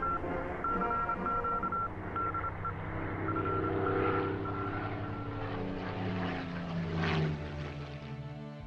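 Supermarine Spitfire fighter with its piston engine and propeller droning steadily and loud throughout, a rich low rumble with shifting tones as the aircraft moves.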